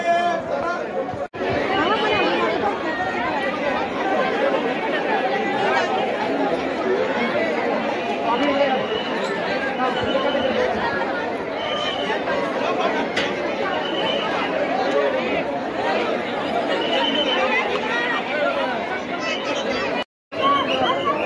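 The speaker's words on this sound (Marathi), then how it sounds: "गर्दी बघा मित्रांनो." Huge crowd outside a temple, a dense, loud hubbub of overlapping chatter from many people, continuous and close, with one brief cut near the end.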